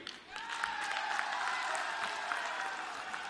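Audience applause at an outdoor Rahul Gandhi political rally in Assam, a steady wash of clapping from a large crowd that holds at an even level throughout, heard fairly distant with no talk over it.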